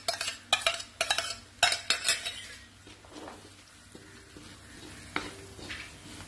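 Cashew paste being stirred into paneer butter masala in a pan, with several sharp spoon clinks and scrapes against the metal early on, then softer stirring over a low sizzle.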